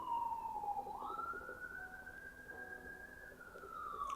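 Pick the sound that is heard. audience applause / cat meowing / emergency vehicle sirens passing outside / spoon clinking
emergency vehicle sirens passing outside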